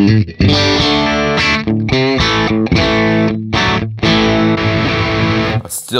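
Electric guitar through a Line 6 HX Stomp with the drive turned down a little still roars with thick distortion, loud sustained chords broken by short gaps, played alone.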